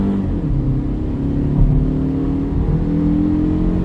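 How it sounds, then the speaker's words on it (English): A 2015 Toyota Camry LE with the 2.5L engine pulls hard at full throttle, its engine note droning and rising smoothly from inside the cabin, loud and steady with a low rumble underneath. "I'll give it the beans and show you what it's like with the foot down"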